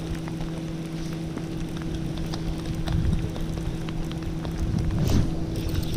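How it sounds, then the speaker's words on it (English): Steady rain pours down during a storm at dusk on a bass fishing outing, a dense close hiss of drops with scattered louder patters, under a constant low hum and no talking. "I don't know how much more of this rainy, nasty weather I can take."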